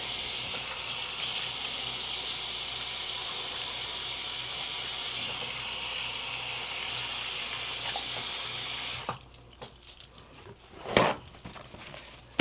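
Tap water runs steadily for hands being washed at a sink, a broad continuous hiss lasting most of the stretch, then cutting off, followed by a few faint drips and handling noises.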